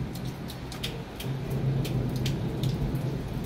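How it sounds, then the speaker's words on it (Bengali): Heavy rain pours down outside in a downpour with thunder, a thick, steady roar of drops with a deep rumble swelling beneath it partway through, close and loud with no one speaking. "কি বৃষ্টি হচ্ছে বাইরে, ঝমঝম করে বৃষ্টি হচ্ছে"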